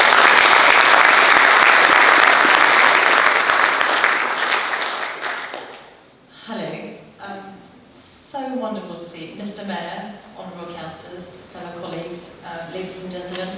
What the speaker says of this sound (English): can you give her a huge round of applause?